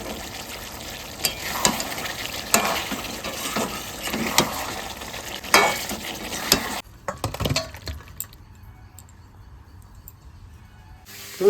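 Mutton curry cooks in a pan and is stirred with a spoon: repeated scraping strokes and soft sizzling up close, then a quieter stretch with a few sporadic clinks.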